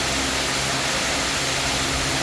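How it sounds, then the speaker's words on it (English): Overhead cooling fan running steadily in an indoor animal exhibit, a loud, constant broadband whoosh with a low rumble underneath and no talking. "What you're hearing right now is a fan that's above me."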